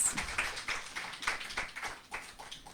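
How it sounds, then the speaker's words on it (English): Audience applause after a reading at a literary event, a scattered patter of claps that stays moderately quiet and fairly distant throughout. "Round of applause."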